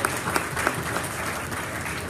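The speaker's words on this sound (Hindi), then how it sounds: "मेरे ख्याल से दो बार तालियां," Applause from a seminar audience at a business presentation in Germany, a dense steady wash of many hands clapping throughout, fairly loud and even, with a few sharper claps standing out near the start.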